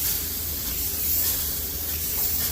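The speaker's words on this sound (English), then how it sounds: "Spray foam day to day, insulating the building." Spray foam insulation being applied to the walls of a building, a steady close hissing spray that runs without a break, with no one talking.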